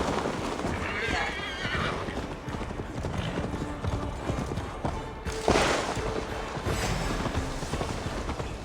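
Rhythmic clip-clop of a galloping horse in Assassin's Creed Valhalla, with a loud neigh partway through, while someone talks over the hoofbeats.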